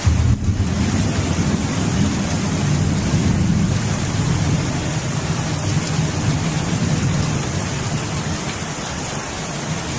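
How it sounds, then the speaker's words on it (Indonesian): Steady heavy rain pours down outdoors under an overcast sky, a continuous broadband wash with a low rumbling undertone, loud and unbroken throughout with no voices. "Nah, hujan."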